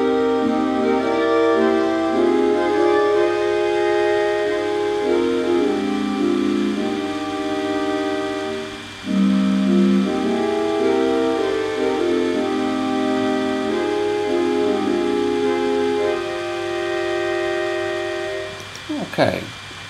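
A piano plays a slow sequence of sustained four-part close-harmony chords in jazz stage band style, moving smoothly from one chord to the next, alone and fairly loud, with a short knock near the end.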